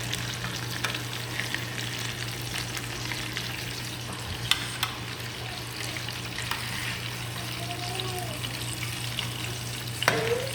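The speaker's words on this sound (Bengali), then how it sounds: "এই যে ইলিশ মাছ ভেজে নিচ্ছে।" Hilsa fish frying in oil, a faint steady sizzle under a constant low hum, with a couple of brief clinks and scrapes.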